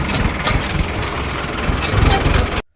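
A tractor engine idling, a loud, steady low chugging rumble with a knocking pulse close by, cutting off abruptly at the end.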